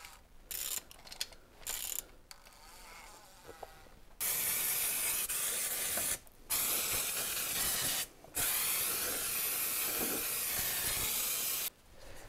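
Oil is sprayed from an aerosol can onto the new suspension of a Volvo V70. A few brief clicks come first, then several long, loud hissing bursts separated by short pauses.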